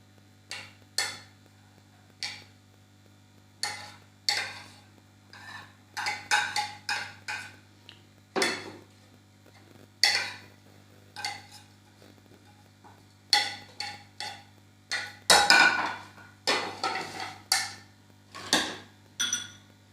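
Ingredients for a homemade chicken fried sandwich, including boiled egg, being mixed in a bowl, heard as a steady run of sharp utensil clicks and taps against the bowl, close and fairly quiet, with no talking.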